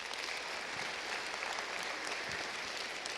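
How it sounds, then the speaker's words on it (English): A high-school audience gives a steady round of applause that holds at an even level throughout, with no voices over it. "So I'd like you to give them a round of applause."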